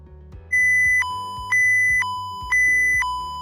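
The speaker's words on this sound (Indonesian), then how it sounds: "Alarm berbunyi, alarm hidup" A paint filling and capping machine's alarm sounds in a repeating two-tone electronic beep pattern, three loud cycles at an even pace over low machinery hum.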